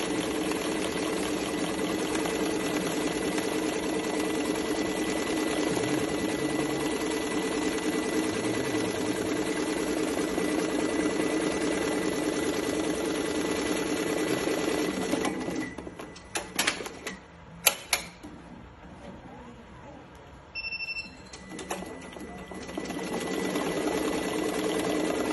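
An SWF B-T1501 embroidery machine, freshly greased and oiled, runs with a fast steady mechanical hum and needle chatter for about fifteen seconds, then stops and leaves scattered clicks, a brief beep and quieter handling noises.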